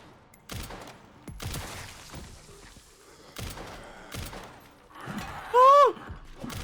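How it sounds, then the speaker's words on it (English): Pistol gunfire in the video game Resident Evil Requiem: several sharp, loud shots spaced unevenly, with thumps and a wavering creature-like cry near the end, no speech over them. "this pistol's kind of OP"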